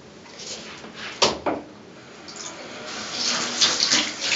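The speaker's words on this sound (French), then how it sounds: "je vais me rincer les cheveux avec de l'eau tiède chaude" Warm tap water runs steadily while hair is rinsed during a home hair-wash session, a loud, close splashing stream with a few sharper bursts as the flow hits the head.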